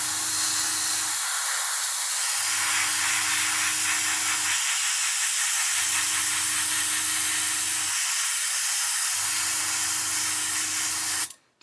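An airbrush sprays VMS No Peel primer onto brass in four steady bursts of loud hiss, each about two seconds long, separated by short pauses, with a low compressor hum under each burst.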